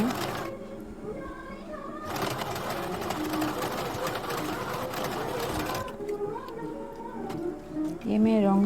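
A sewing machine stitches a folded strip for a princess-cut deep-neck blouse, running in a fast steady whir for several seconds before stopping, close by, with someone talking before and after the run.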